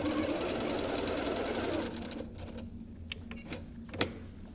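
A sewing machine stitching fabric handles onto a picnic bag runs in a steady whir for about two seconds, then stops, leaving only faint, sparse clicks and a single sharp tap near the end.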